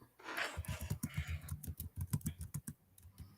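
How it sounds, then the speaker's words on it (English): Rapid fingers typing on a computer keyboard, a steady run of close, crisp key clicks with uneven rhythm, heard alone without talk. "I can hear them fingers typing."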